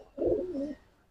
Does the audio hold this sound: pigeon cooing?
yes